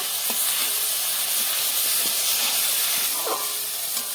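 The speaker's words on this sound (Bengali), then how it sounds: "মরিচ বাটা, জিরা ধনিয়া বাটা ভালোভাবে ভেজে নেব।" Chilli paste and cumin-coriander paste frying in a pan for papaya bhaji, a continuous loud hiss of sizzling with a few faint stirring clicks.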